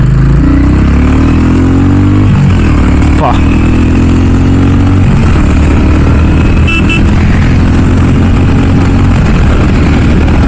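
A Royal Enfield Classic 350 motorcycle engine with 20,000 km on it runs with a steady low thumping pulse, loud and close, while someone talks over it.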